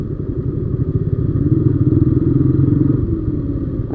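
A motorcycle engine rumbles loud and close on a morning ride through Dhaka, its low pulsing throb rising and holding steady as the bike moves along, with faint rattles and no talk.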